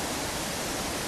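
Tom Gill waterfall in the Lake District pours in a dense, continuous broadband roar, close and steady with no pauses.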